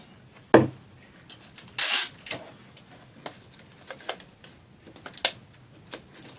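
Tape is pressed down to hold a decoration on a Dollar Tree Easter basket centerpiece, giving one short crackling rip, then a few faint light taps and rubs in a quiet room with no talking.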